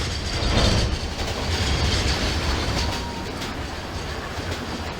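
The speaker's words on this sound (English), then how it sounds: "We'll just let it coast down the hill to the next station, and then we'll try again to see if we can add more wagons to the train" A VR V Class train in Trainz Railroad Simulator 2019 coasts downhill with its wagons, a continuous rolling rumble of wheels on track with faint clatter, steady and fairly loud throughout.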